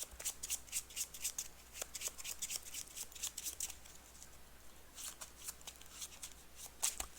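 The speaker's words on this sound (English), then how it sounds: "I find it really hard to do mass shuffles when the deck is this small." A small deck of playing cards being shuffled during an Arkham Horror card game, soft repeated riffling and flicking bursts at close range, quiet and without talk.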